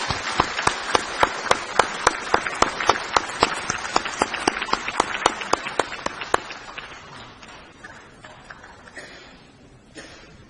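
Lawmakers in a national assembly chamber applaud to welcome Oman's parliament speaker, a chorus of claps with a few sharp, evenly spaced hand claps standing out, fading away after about eight seconds.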